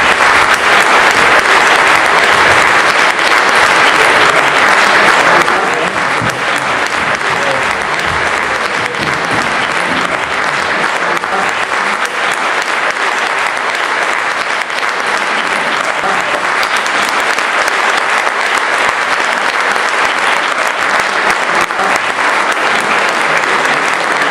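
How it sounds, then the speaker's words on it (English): Large audience at a children's Rama Lila stage performance gives sustained, loud applause for the cast, a thick wash of clapping that continues evenly for over twenty seconds with only a slight dip after the first few. "A big round of applause to this entire team here once more."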